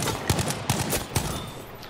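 Rapid bursts of gunfire in a World War II battle royale shooter game, several close sharp shots in quick succession over about two seconds.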